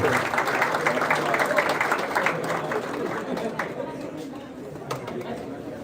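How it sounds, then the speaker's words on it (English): Audience applause at a convocation ceremony for a prize-winning graduate, dense clapping mixed with crowd chatter, loud at first and gradually fading. "Give a thunderous applause to Raj Chaudhary."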